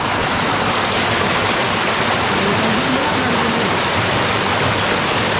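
Rushing water pours between rocks in a loud, unbroken roar, like a strong stream or small waterfall during the rainy season at Kalluvathil near Malayattoor, close by with a faint voice beneath.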